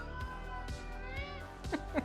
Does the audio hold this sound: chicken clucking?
no